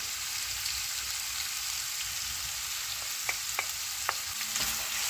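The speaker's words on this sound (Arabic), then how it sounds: "نرمي عليها لا فيوند البولي تاع الدجاج، الصدر تاع الدجاج مقطع طرف الصغار" Small pieces of chicken breast fry in a pan with onion, giving a steady, close sizzle broken by a few light clicks and scrapes of stirring.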